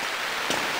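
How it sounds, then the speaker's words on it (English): Steady broadband hiss of rain falling continuously outdoors, even and moderately loud, with one brief louder patter near the middle and no voices. "Look at that rain."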